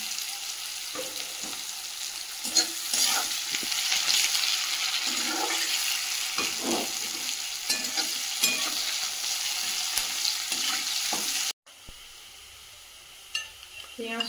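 Onions frying in a pan on an oven, a steady loud sizzle with intermittent stirring and scraping, ending in a brief cut and quieter sizzle.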